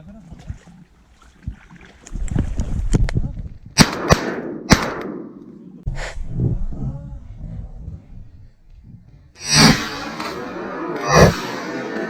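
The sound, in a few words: gunshot while duck hunting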